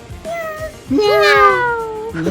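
A cat meows close by, a drawn-out rising and falling cry after a shorter call, with faint background noise around it.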